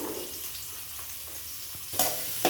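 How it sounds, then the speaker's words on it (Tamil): Onions sautéing in a cooking pan, a soft continuous frying hiss with a couple of sharp stirring scrapes near the end, fairly quiet and close. "இப்போ வெங்காயம் வதங்கிட்டுருக்கு"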